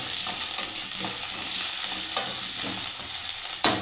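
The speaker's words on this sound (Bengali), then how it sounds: "ফুলকপিটাকে দিয়ে দিলাম বন্ধুরা, দেখুন তেলের মধ্যে" Cauliflower fries in hot oil with a steady, close sizzle, broken by soft scraping and stirring and a sharp clink near the end.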